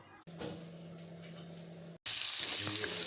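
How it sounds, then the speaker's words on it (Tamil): Steady oil sizzle of onions and curry leaves frying in a pan, with a brief cut partway and then a louder, brighter sizzle. "வெங்காயம் கருவேப்பிலெல்லாம் போட்டு நல்லா வணக்கிட்டு"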